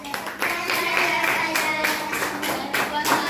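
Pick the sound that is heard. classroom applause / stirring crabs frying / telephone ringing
classroom applause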